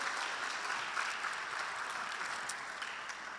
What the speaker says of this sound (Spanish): Denme un aplauso, hermano.